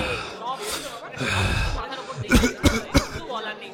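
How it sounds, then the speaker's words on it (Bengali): A very old man coughs three times in quick, harsh bursts, close by, following a stretch of talking and breathy throat sounds. "এক অতি বৃদ্ধ মানুষ কাশতে কাশতে 5-6টা ছেলে মেয়ে নিয়ে বাড়িতে ঢুকছেন"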